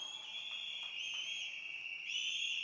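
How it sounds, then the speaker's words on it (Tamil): Sustained high whistle tones from a crowd at a Tamil Nadu political speech event, overlapping pitches holding steady with a rising shift near the end, fairly loud and continuous with no talking. "இந்த விசில் சத்தம்"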